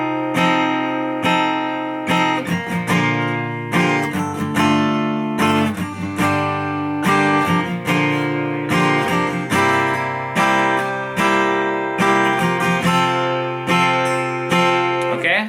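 An acoustic guitar strums the chorus chords of a song in a steady rhythm of down-strokes, loud and close with ringing chords and no voice over it.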